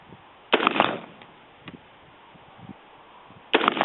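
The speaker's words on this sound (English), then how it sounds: "shoot some steel case ammo and see what the differences in accuracy are" A DPMS Oracle rifle fires steel case ammo at a 50-yard range: two sharp, loud gunshots about three seconds apart, each with a short crackling tail, and faint knocks in the quiet between.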